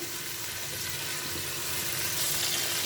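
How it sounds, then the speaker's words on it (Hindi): Beef for palak gosht frying in oil in a pan, giving a steady, close crackling sizzle that holds at an even level throughout, with no talk over it. "तो अब हम इसको थोड़ा सा जो है ना ऑयल के साथ फ्राई कर लें"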